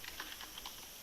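Light, quick keystrokes tap on a computer keyboard in an irregular run of soft clicks, faint and close by.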